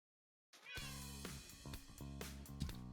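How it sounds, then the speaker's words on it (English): A cat meows in the video game Minecraft, a clear close, drawn-out mew that begins after a short silence and carries on over steady low game background sound. "I can hear our kitty kitty wandering on the sand"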